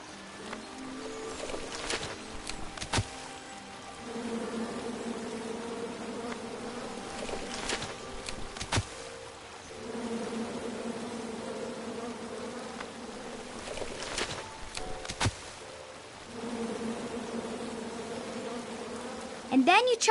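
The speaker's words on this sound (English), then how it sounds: "And then you chop down the tree full of angry bees?" Angry bees swarm from a tree in the King's Quest video game, a steady droning buzz that swells and fades in several waves over about twenty seconds, with sharp clicks scattered through it.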